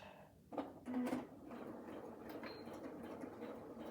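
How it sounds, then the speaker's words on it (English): A sewing machine backstitching the start of a pillow cover block gives a few short, quiet mechanical bursts of stitching, followed by a faint hum. "I'm going to start sewing, and I am going to backstitch on the beginning of this block"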